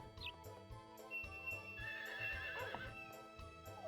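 A horse whinnies in the farming video game Harvest Moon 64, a single wavering neigh rising over looping game music with soft clip-clop hoofbeats.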